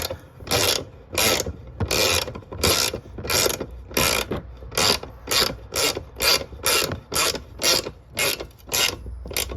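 A ratchet tightens a bolt on the fuel filler door of a 1993 Cadillac Fleetwood Brougham, giving steady back-and-forth clicking strokes, about a dozen loud close bursts in even rhythm with no talking.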